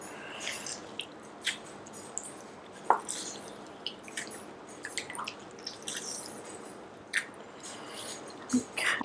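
Juice squeezed from half a lemon drips and squishes in a few soft, close wet bursts separated by quiet gaps.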